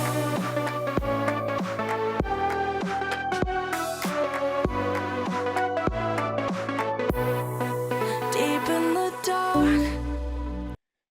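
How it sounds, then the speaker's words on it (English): Electronic music intro with filtered drums: steady rhythmic beats under layered synth tones and a riser, building before cutting off abruptly near the end. "So altogether the intro sounds like this."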